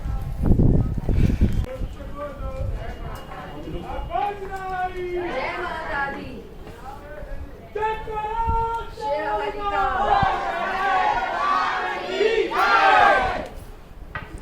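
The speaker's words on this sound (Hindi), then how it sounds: "ऐसे भक्तों की भीड़ तो मिलेंगी ही जो अपने आप में मज़े कर रहे हैं और ऐसे माता के जयकारे लगाते हुए दर्शन के लिए जा रहे हैं" A crowd of pilgrims on the Mata Vaishno Devi yatra path chants devotional cheers to the goddess in rising, overlapping call-and-response shouts, loud and close, with general crowd noise and occasional horse hooves beneath.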